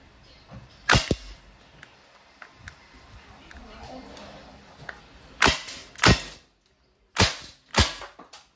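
A KWC CO2-powered submachine-gun airgun fires steel BBs in semi-automatic mode, giving sharp, close, snappy single shots spaced irregularly, several in quick pairs, with faint handling noise between them.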